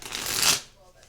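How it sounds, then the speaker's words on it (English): Tarot cards riffle-shuffled up close in one brisk burst lasting under a second, then quiet. "Libra, one more shuffle."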